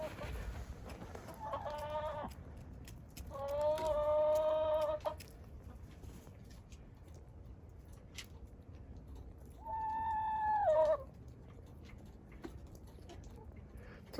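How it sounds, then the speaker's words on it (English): Chickens on a farm give three drawn-out, wavering calls at moderate distance, spaced several seconds apart, over a quiet outdoor background. "What's up, chickens? Good morning, chickens."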